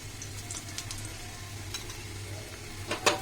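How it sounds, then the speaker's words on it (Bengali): Lachha paratha fries in oil on a very hot pan, a faint continuous sizzle with a few light crackles and a louder spatter burst near the end. "দিয়ে আবার উল্টিয়ে দিলাম, দিয়ে আবার আমি তেলটা উপর থেকে দিয়ে দিচ্ছি।"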